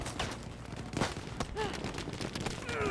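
Rapid gunfire and explosive bursts from the World War II shooter Battlefield V, a dense stream of overlapping shots with a few louder cracks, heard alongside gameplay noise.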